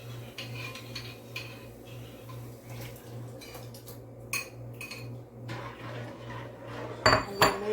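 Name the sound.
stirring cornmeal porridge in a pot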